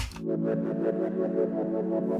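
A Serum synth pad run through an LFO-swept filter and distortion sustains chords across the whole stretch, its upper harmonics pulsing in a steady wobbling rhythm, loud and alone.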